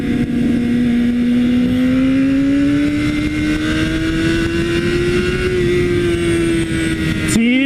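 A BMW S1000RR sport motorcycle being ridden, its engine holding a loud, steady drone whose pitch climbs slowly, then breaks off with a short burst near the end.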